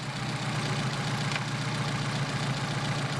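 A Mercedes 190SL engine with Solex 44PHH carburetors idles steadily at about 750 RPM, a continuous close, loud, even rumble with a regular low pulse and no voices.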